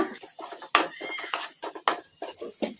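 A spoon scraping and clinking against a pan while egg masala is mixed with chilli powder and salt, with quick, close, repeated metallic strokes.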